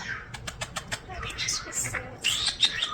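Starlings give a run of quick, faint repeated chirps and squeaky whistles, fairly distant, over a low background rumble, with soft wing flutters mixed in.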